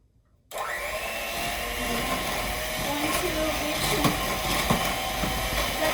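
Electric kitchen mixer beating ingredients in a bowl, switching on abruptly and then running as a loud, steady whirring drone close by with slight scraping variations.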